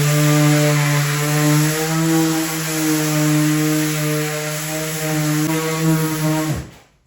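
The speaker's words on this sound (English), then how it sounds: "I'm going to give it a quick 1-2 with the palm sander" A palm sander runs on a wooden coffee table top, giving a steady, loud motor whine with a humming buzz that holds evenly for several seconds before cutting off abruptly.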